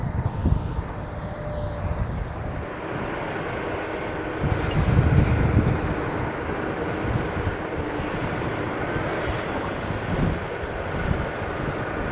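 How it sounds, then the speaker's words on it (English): A Komatsu 360 excavator loads a truck at a landfill, a steady broad rumble of diesel engine and machinery that swells briefly midway, heard from some distance with no talk. "That's our old buddy Sam up in the Komatsu 360, loading Anderson"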